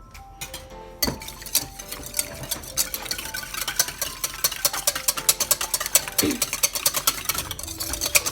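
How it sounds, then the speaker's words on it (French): Yogurt and eggs whisked together for a savory sardine, gruyère and chorizo cake batter, heard as fast, rhythmic clinking strokes against a bowl, close and continuous, with no talking. "On va bien mélanger le yaourt et les œufs."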